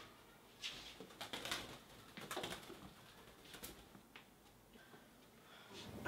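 A pigeon coos from a window ledge in soft, repeated low calls, close but quiet, with light ticking and tapping around it and no talk.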